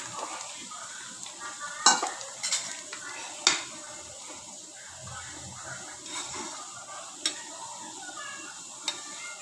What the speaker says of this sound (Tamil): இப்போ நம்ம ஊற வச்சு அரைச்சி ரெடி பண்ண கடலைப்பருப்பு சேர்த்துட்டு ஒரு கிளறிக்கணும்.